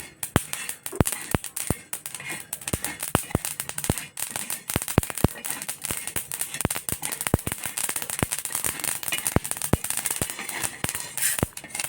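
Coriander seeds and white sesame seeds crackle while dry-roasting in a pan, with sharp rapid pops scattered irregularly over a constant sizzling hiss, close and fairly loud, with no talk.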